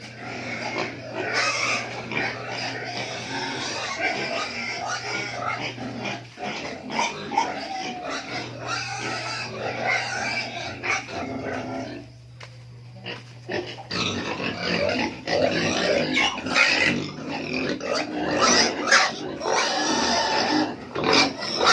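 Pigs on a small farm grunt and oink almost continuously, close and fairly loud, with a steady low hum underneath and a brief quieter lull midway.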